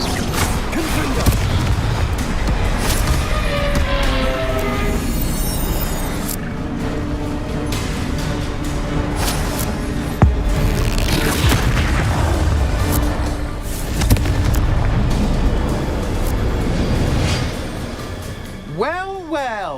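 Confringo fire spell explosions in Hogwarts Legacy, a series of booming blasts and bursts in a busy battle mix, with a voice speaking over the noise and a rising swoosh at the end.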